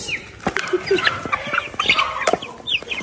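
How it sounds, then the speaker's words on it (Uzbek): Young chickens, including half-grown cockerels, cluck and squawk close by at feeding time in a busy, irregular run of short calls and bursts, with no talking over them. "Mana jo'jalarimiz qanday katta bo'lishdi do'stlar mana"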